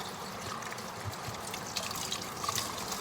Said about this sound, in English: I'll start by washing all the seafood